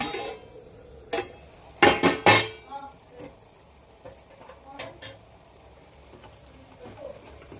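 A spoon scrapes and clinks against a pan while stirring a mushroom fry, with a cluster of loud metallic strokes early on, then softer scattered scrapes and a faint sizzle close by.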